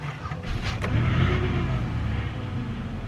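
A 2002-07 Buick Rendezvous engine starting after an engine control module swap and passkey relearn, a brief cranking catch followed by a steady, close idle hum.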